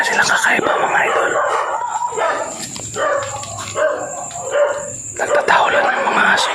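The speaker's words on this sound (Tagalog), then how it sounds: "Nagtatahulan ng mga aso." Dogs bark and yip outside an abandoned hospital, their calls coming in bursts at a moderate distance while someone talks over them.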